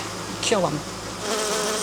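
Honey bees at a hive, mite-infested colony, buzz steadily throughout, with a short whining pass of a single bee near mid-clip, while a voice speaks briefly.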